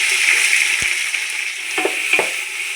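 Sliced onions sizzling in hot oil with cinnamon, cardamom and cloves, a loud steady fry with a few sharp scrapes and clinks of a spoon stirring against the pan.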